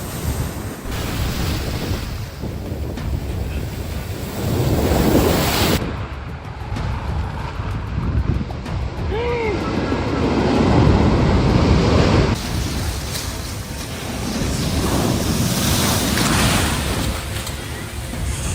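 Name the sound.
ocean waves breaking near the shore at a dangerous beach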